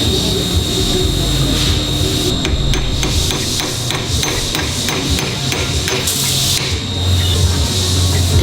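A wheel bearing is hammered onto a BMW E46 hub with a series of sharp metallic blows in uneven bursts, close and loud, over a constant background hum.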